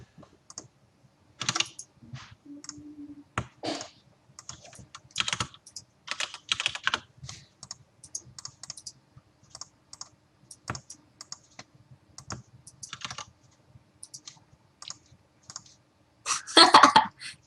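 Someone types a password on a computer keyboard nearby, with scattered bursts of quick key clicks and pauses between them, followed by a louder cluster of clatter near the end and a faint cough.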